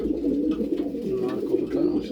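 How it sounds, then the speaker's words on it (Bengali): A male pigeon in a loft gives soft, rolling coos, close and clear, a few pulsing calls repeating across the short stretch with no talk. "নর কবুতর মাশাআল্লাহ"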